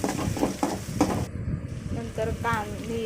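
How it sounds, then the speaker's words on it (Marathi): Onion, garlic and ginger fry and get stirred in a pan for a soybean curry, with a steady sizzle and stirring scrapes under a person talking. "तर बघा कांदा असा लालसर होत आला का मग लसूण अद्रक चिचून घेतलेलं ना ते टाकून घ्यायचं. तेही चांगलं भाजून घ्यायचं."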